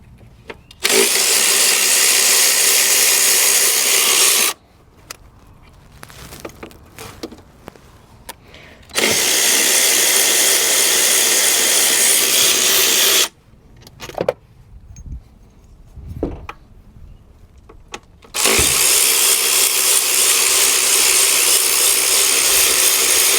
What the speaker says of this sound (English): we are going to go ahead and take out these 4 10mm bolts that hold the throttle body to the intake manifold assembly.